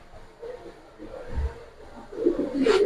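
Racer pigeons coo softly at close range in a few low, murmuring phrases, growing slightly fuller toward the end.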